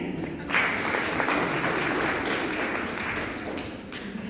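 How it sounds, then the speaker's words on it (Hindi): Audience at a women's day gathering applauding, steady dense clapping from many hands heard from within the room, moderately loud and sustained without a break. "तालियां होनी चाहिए।"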